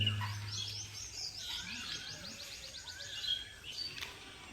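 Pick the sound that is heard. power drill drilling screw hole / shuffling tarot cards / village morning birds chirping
village morning birds chirping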